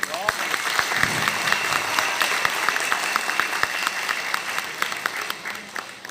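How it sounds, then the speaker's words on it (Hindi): Audience clapping fills the hall at a cheque distribution event in Urdu Maskan Hall, Hyderabad, steady and moderately loud throughout and tapering slightly at the end, with a voice speaking over it. "उन सभी के लिए एक बार जोरदार तालियां हैं सब"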